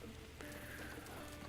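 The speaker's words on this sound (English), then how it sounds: "There is rain at the moment" Rain falls steadily in Breath of the Wild, a soft continuous hiss of drops on surfaces, faint and even with no voices.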